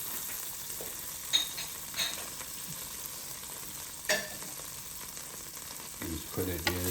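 Butter melts and sizzles in a Power XL pan, a steady hissing fry throughout with a few soft scrapes and clinks of a utensil spreading it around, close and even in volume.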